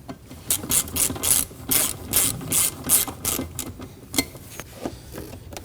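A hand ratchet snugs down bolts on a 2003-2006 Subaru Baja engine during a knock sensor replacement. Close, loud bursts of rapid clicking repeat in short strokes with brief pauses between them.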